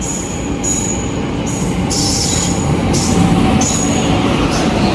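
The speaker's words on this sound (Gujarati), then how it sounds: "તો દિરાવીની ટ્રેન આવી ગઈ છે." A passenger train rolling into a station in Ahmedabad, a loud steady rumble of wheels with intermittent high metallic squeals, close by.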